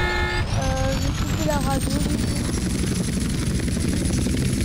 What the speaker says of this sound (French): On va reprendre ce petit avion.